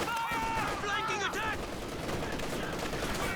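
Rapid machine gun fire from the World War II strategy game Company of Heroes 2, a steady dense clatter of gunfire through the whole stretch with talk over the first part.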